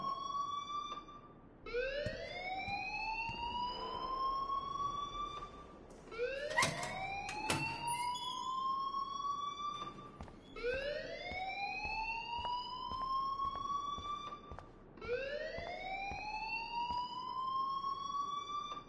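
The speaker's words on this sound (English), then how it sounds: "please turn off that alarm since that's your job" Video game alarm sounding in repeated rising electronic whoops, each sweep climbing in pitch with bright harmonics, four cycles at an even pace, fairly loud and alone.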